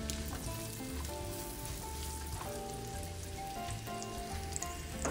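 Chopped onion sizzling steadily in about a quarter cup of hot oil, a continuous crackling fry with soft background hum and faint tones, no talking.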